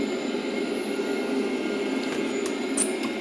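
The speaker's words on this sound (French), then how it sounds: "Démarrage moteur droit." Right-side engine of a jet aircraft spooling up during start, a steady broadband whine and rumble with tonal components, continuous and fairly loud with faint higher-pitched clicks near the end.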